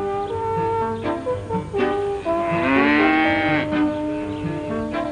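A cow moos in several long, drawn-out calls that swell and fall, one sustained bellow in the middle rising loud and close. No voices are heard.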